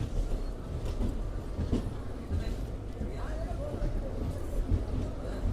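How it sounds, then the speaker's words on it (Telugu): An express train rolls into Renigunta junction with a steady low rumble and faint rhythmic wheel clatter. Station crowd noise and nearby voices continue throughout. "ట్రైన్ వచ్చేసి రేణిగుంట జంక్షన్కి అయితే వచ్చేసింది"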